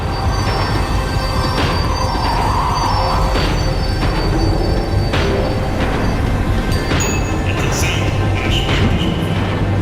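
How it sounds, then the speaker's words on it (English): A tram in Max Payne 3 rumbles loudly on its rails as it slows, with grinding low-end noise and high, drawn-out wheel squeals flaring at intervals over the continuous roar. "The tram was slowing down, and I'd only just gotten on board."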